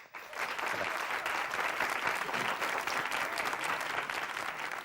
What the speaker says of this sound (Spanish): Con este aplauso